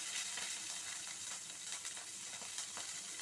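Green chillies, garlic and fennel seeds hitting hot oil in a frying pan, giving a steady bright sizzle with crackling pops throughout, close and alone.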